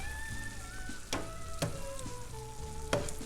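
Linguini with prosciutto, cabbage and Gruyère tossed in a pan with the heat off, a soft sizzle under a low hum, broken by a few sharp clicks and clacks of the utensil, no talking.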